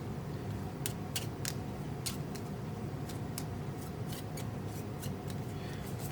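Game cards being shuffled for a tabletop board game, a quiet sequence of crisp snapping riffles and flicks over a faint steady hiss, heard alone without talk.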